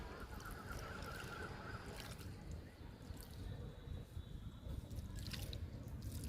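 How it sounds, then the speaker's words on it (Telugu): Water is poured from a container onto a potted tulsi plant, giving a faint, soft trickle and patter of drips against a quiet background. "వాటర్ పోస్తున్నా తులసికి."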